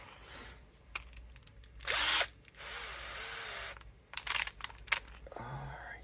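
Bosch power drill with a bit removing a Martin acoustic guitar bridge, whirring in a few bursts of one to two seconds between quieter handling noise, one burst notably loud and close.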